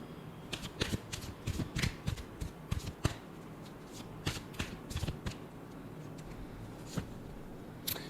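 A deck of tarot cards being shuffled by hand, a close series of crisp riffling flutters and soft slaps in irregular bursts, with a quiet background and no talk.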